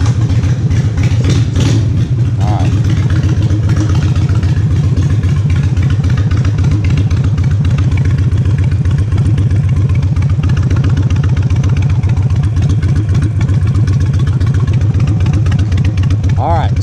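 Custom suicide-shifter motorcycle engine running at a loud, close, steady idle with an even low-pitched throb, and a few brief sharper mechanical noises along the way.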